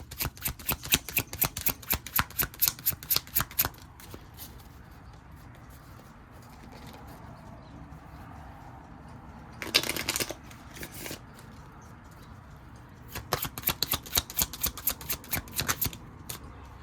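A tarot deck is shuffled in quick riffling bursts, close and crisp, with quieter pauses between the bouts and a short flurry near the middle before a final run of rapid shuffling.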